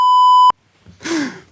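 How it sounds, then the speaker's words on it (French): A steady, loud censor bleep tone lasts about half a second and cuts off sharply, followed by a short groan-like voice. "Ça, il y aura un bip"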